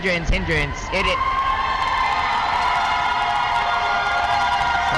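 Crowd at a volleyball match reacting with a burst of cheering and shouts, then a steady hum of voices and chatter filling the hall; a voice speaks over the start.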